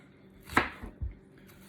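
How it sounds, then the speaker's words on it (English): A knife chops bacon into small pieces on a cutting board, giving a few quiet, sharp thuds spaced apart. "This is the easiest, quickest way to chop bacon"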